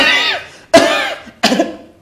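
Three harsh coughs in a row, loud and close, each a sharp burst trailing off, with brief pauses between them.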